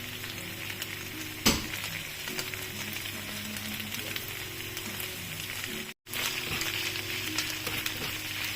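Wide rice noodles stir-frying with soy sauce for pad see ew, a loud continuous sizzle in the pan with an occasional scrape of stirring, close up, with a brief cut partway through.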